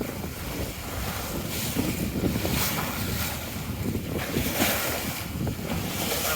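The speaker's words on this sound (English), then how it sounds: "Sea breeze on the nose." Sea breeze blows head-on over a Hunter Horizon 27 bilge-keel sailboat off the Isle of Wight, a loud, gusting rush of wind buffeting the microphone over the wash of water against the hull, with no voices.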